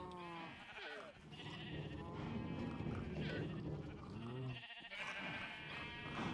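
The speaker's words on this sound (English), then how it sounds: "That's the sheep." Sheep bleat repeatedly in a video game farm scene, several wavering bleats at moderate volume over continuous background game sound, with some faint talk.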